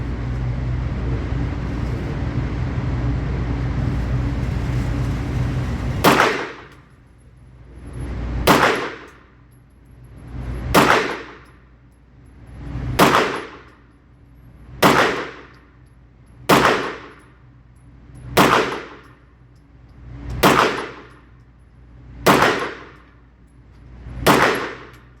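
A Bul Armory SAS2 Tac Govt 9mm pistol fires about eleven evenly spaced shots, each followed by a loud ringing clang off a steel target. A steady rushing noise comes before the first shot.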